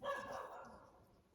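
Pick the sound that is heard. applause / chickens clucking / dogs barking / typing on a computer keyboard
dogs barking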